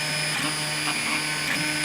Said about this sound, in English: The printer's going, of course.